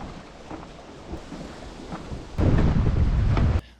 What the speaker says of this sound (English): Oh, and we have rain.